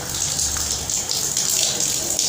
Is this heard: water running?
yes